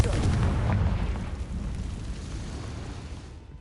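A Confringo blasting spell explosion in the Hogwarts Legacy video game sounds as a deep, rumbling boom that starts loud and slowly decays over a few seconds.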